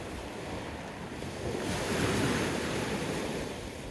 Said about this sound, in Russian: У нас ясное небо и спокойное море.